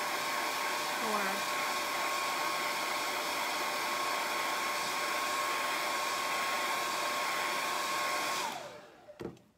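A hair dryer blows steadily to dry paint before stenciling a floor, a loud close continuous whir that runs for several seconds, then switches off near the end, followed by a couple of faint knocks.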